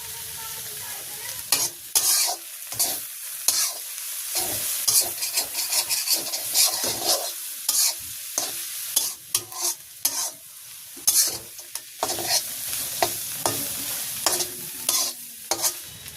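Coriander greens are stir-fried in a pan with repeated, close, loud scraping and clattering strokes of a utensil over a crackling sizzle, coming in irregular bursts with brief pauses and no voices.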